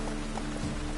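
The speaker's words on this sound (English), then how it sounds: "Rain again." Steady hiss of falling rain in the video game The Witcher 3: Wild Hunt, with soft scattered droplet patters, continuous and even, no voices.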